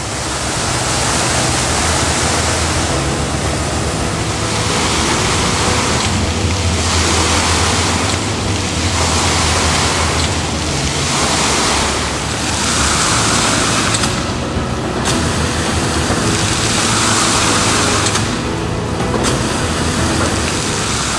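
Water from the Houston Metro fountains pours and splashes in a steady, loud, broadband rush, with surges where the flow is diverted, and no voices over it.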